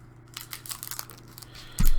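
Crinkly plastic bags rustled as lollipops are pulled out, a run of close, sharp crackles and crumples, ending in a louder thump.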